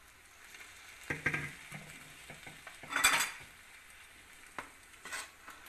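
Chicken vegetable macaroni being dished out from a pot, with spoon scrapes, metallic clinks and knocks against the pot and plate coming in short bursts, fairly quiet and close.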